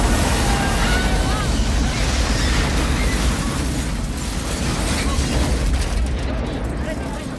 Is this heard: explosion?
yes